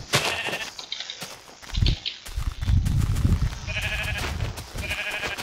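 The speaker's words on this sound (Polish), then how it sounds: "O, owca." Minecraft sheep bleat several times in a grassy clearing, wavering nasal calls repeating over the course of the scene with game footsteps and movement between them.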